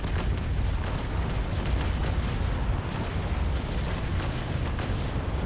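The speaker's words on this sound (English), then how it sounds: "a very nice broadside from point blank range" Dense, continuous rumbling booms and bursts of a ship's cannon broadside fired at point-blank range in the naval video game Naval Action, loud and overlapping throughout.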